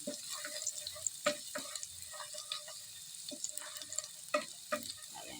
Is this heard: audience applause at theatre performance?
no